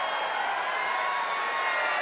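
A baseball crowd at the Nationals' ballpark during a Giants game keeps up a steady, loud crowd buzz with no distinct peaks for the full stretch.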